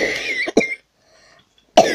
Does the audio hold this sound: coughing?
yes